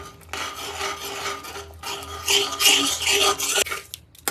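Black chana curry being stirred in a pan with Kashmiri red chili, black pepper and garam masala, giving a steady scraping, rasping rub of spoon against the pan that grows louder midway, with no talk.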